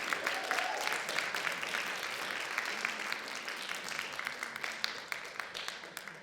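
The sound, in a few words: audience applause for band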